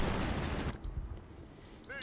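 Howitzer barrage in the World War II strategy game Company of Heroes, a loud rumbling burst of blasts that fades into quieter scattered thuds, with a short whistling shell sound near the end.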